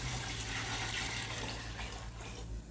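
About 1.25 litres of water pours steadily into a pot for kuska biryani, a continuous splashing rush that shifts slightly in tone as it fills.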